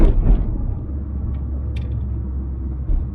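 A 1988 Toyota AW11 MR2 Supercharged engine runs steadily while driving, giving a constant low rumble with a brief swell at the start and another near the end.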